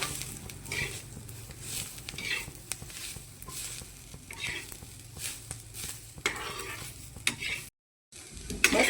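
Roasted masala and browned onions cook in a pan for Kashmiri chicken masala, a soft continuous sizzle broken by repeated stirring scrapes and faint clinks, briefly cutting out near the end.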